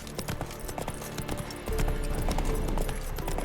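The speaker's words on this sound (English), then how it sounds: "Spooking my horse." Horse hooves clip-clop steadily in The Witcher 3 video game, a continuous close trotting rhythm that grows louder halfway through, with no clear whinny.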